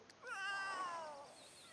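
A cat meowing in The Sims 3: a single drawn-out, wavering meow lasting over a second, clear and close with little else around it.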